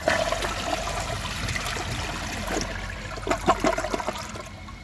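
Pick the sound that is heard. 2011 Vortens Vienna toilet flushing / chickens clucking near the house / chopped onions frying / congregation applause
2011 Vortens Vienna toilet flushing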